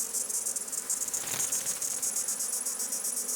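A moth trapped inside a beehive gives off a continuous high, pulsing insect whine, with the surrounding bees humming underneath. The sound is steady and faint, with a brief swell in the middle.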